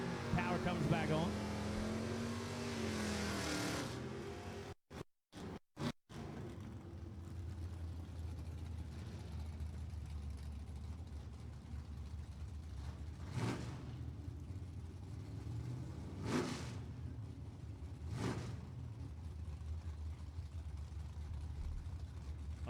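A 1982 Chevrolet Camaro and another drag race car at an NHRA event run at full throttle, a loud steady engine roar filling the clip, with a brief cut near five seconds and several sharp bursts later on.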